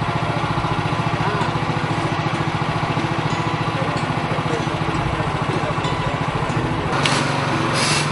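A tractor running a canopy cutting attachment built to a Gujarat design drones steadily at a loud, even idle-like pitch throughout, with a brief harsher burst near the end and no talk.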